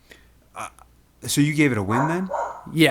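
A dog barks a few times in the room, brief sharp yaps early on, with a person talking over the rest.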